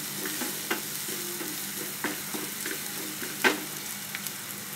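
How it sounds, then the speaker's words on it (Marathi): Red chili being stirred through a Bombay duck curry mixture in a pan, with soft spoon scrapes and occasional clinks over a low, steady sizzle at moderate distance, no talking. "एकजीव करायचं सगळं"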